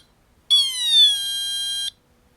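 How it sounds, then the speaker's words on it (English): Electronic tone from a 555 timer controlled by an Arduino through digital potentiometers, a bright buzzy beep that drops in pitch in steps and then holds flat for the last part, lasting under two seconds in a quiet room. "You can hear the flat spots where the tone falls and then stays the same for the last bit."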